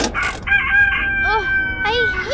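An animal noise toy in the adventure game A Vampyre Story gives a loud rooster crow in drawn-out, wavering calls, with a short clucking burst at the start and a second crow near the end.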